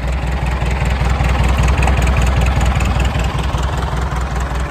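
An old farm tractor with a rebuilt front loader bucket idles nearby, its engine chugging in a steady, rapid low-pitched rhythm with a mechanical rattle and no voices.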